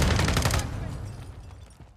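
A loud flurry of rapid gunshots in Warzone 2 fills the first half second, then fades into fainter scattered shots and background noise.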